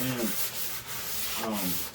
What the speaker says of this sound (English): you can sand that down